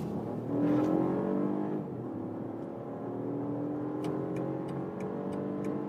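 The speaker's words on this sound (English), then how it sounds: "we can accelerate from 50 kilometers an hour to, let's see," A BMW SUV in sport shift mode pulls hard from 50 km/h: the engine note climbs steadily through the gears with rising harmonics and faint ticking, heard from inside the cabin without talk.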